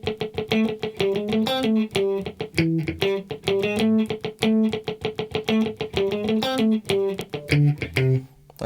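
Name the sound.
palm-muted single-note electric guitar line from a song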